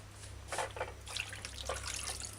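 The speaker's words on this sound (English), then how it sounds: "let's rinse it again with some fresh water." Tap water runs and splashes over pork stew meat in a sink or bowl, a quiet steady rinse with a few louder surges, no talking.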